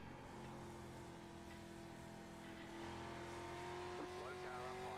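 Rookie street stock car engine in the iRacing video game at Concord Motorsport Park, a sustained droning whine that slowly rises in pitch as it winds out, fairly faint and steady.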